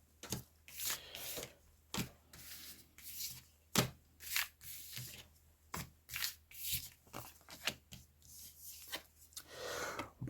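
Tarot de Marseille cards are shuffled and dealt out in a rhythmic series of soft papery rubs and slaps, close and quiet, for about ten seconds.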